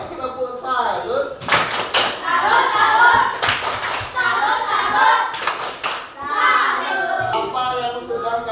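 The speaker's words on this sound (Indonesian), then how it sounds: "sekali lagi kita berikan dulu tepuk salut untuk kelompok komputer" A classroom of children gives a rhythmic salute clap for the computer group in a coding and digital-literacy lesson, with sharp bursts of clapping breaking through the teacher's and kids' talk.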